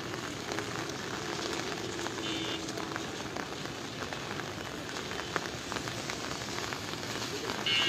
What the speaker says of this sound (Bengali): দেখেন এখনো বৃষ্টি হচ্ছে,